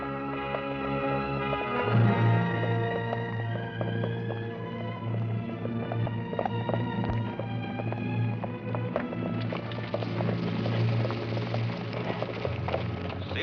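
Horses walking on a farm road in the 1850s border country, hooves clip-clopping steadily at a moderate distance over a bed of dramatic background music.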